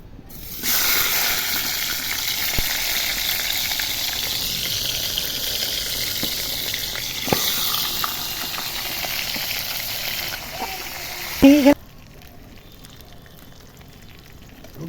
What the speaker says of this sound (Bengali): এখন মাছগুলো আমি ভেজে নেবো